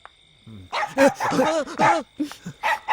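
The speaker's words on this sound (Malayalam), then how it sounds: "അതൊരു പട്ടിയാ" A dog at night near a roadside gives a rapid string of short, close barks and yelps, loud and uneven, after a brief quiet start.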